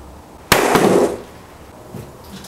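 A hard drive dropped onto the floor: a single sharp crash, followed by a brief rattling clatter that fades out.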